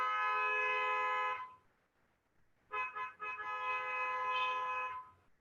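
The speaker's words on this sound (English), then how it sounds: "I'm sitting in a place close to a road, and I think somebody is honking" A vehicle horn honks on a nearby road: a long steady blast, a short pause, then a few broken honks merging into another sustained blare, heard faintly at a distance.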